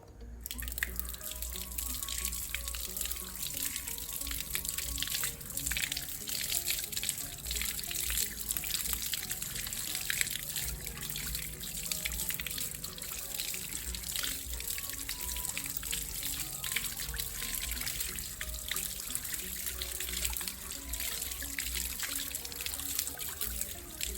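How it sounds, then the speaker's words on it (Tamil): Aloe vera leaves rinsed under running tap water, a continuous close trickle and patter of water with small drips and splashes throughout. "ஃபர்ஸ்ட் கற்றாழையை நான் நல்லா வாட்டரில் வாஷ் பண்ணி எடுத்துக்கிறேன்."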